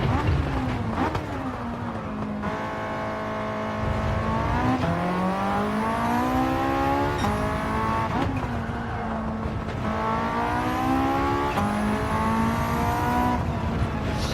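A turbocharged race car in Gran Turismo 7 revving hard and continuously, its engine pitch climbing through each gear and dropping sharply at quick upshifts, loud and close throughout.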